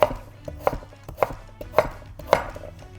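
A knife chops through chicken on a board in five or six firm thuds at an uneven pace, close and clear with no talking.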